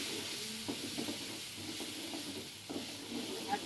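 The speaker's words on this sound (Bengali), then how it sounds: "নারকেলগুলো একটু লাল লাল করে ভেজে নিই" Coconut paste sizzles in a pan with fried shrimp, a steady hiss of frying broken by light stirring clicks and scrapes of the spatula, close and continuous.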